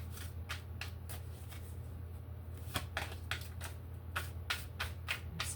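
Tarot cards are shuffled by hand nearby in a run of quick riffling bursts and soft slaps, repeating at an irregular rhythm over a low room hum, with no voices.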